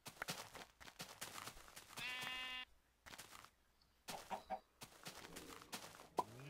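Sheep bleating in the video game Minecraft, several short game-sound bleats and clucking animal calls scattered among clicks and thuds, moderately loud with brief pauses, no talking.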